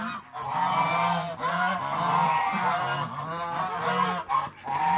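Geese and ducks, including white Pekin ducks, honk repeatedly in the snow, a close and loud chorus of overlapping calls with little pause.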